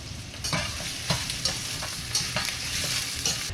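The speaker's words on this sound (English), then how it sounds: "Our onions, scallions, and garlic, been infusing this beef oil for about 4 or 5 minutes" Onions, scallions and garlic sizzle steadily in hot beef oil, with a spoon stirring through them and scraping the pan in several distinct strokes; close and fairly loud, with no talking.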